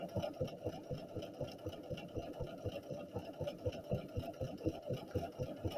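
A Bernina 300 series sewing machine runs steadily, stitching a buttonhole zigzag in a fast, even mechanical rhythm of repeated needle strokes, moderately loud and continuous without talk.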